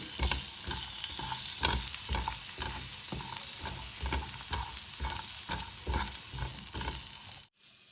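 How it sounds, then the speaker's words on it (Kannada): Steady crackling sizzle of aubergine frying in oil for chutney, with regular soft scraping strokes of stirring throughout, continuous and close, ending abruptly. "ಇದು ಎಣ್ಣೆಯಲ್ಲಿ ಫ್ರೈ ಆಗ್ತಾ ಇರುತ್ತೆ"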